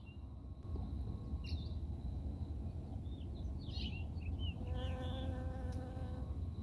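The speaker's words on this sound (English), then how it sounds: "this thing is always just full of bees" Bees humming steadily around a rosemary bush in a backyard orchard on an early spring morning, a continuous close buzz throughout with a few brief bird chirps in the background.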